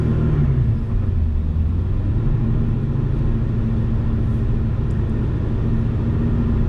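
A car creeps out of the paddock at NCM Motorsport Park at about 25 mph, its engine giving a steady, close, low rumble with a slight early drop in pitch, and no talk.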